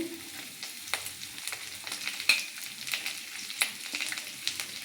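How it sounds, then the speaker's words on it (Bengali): Dried red chili, chopped garlic, onion and green chili fry together in a pan with a soft, steady sizzle, broken by scattered stirring clicks and scrapes, close and fairly quiet with no voices. "সবগুলো এবার একসাথে খুব ভালোভাবে একটু ভেজে নেব"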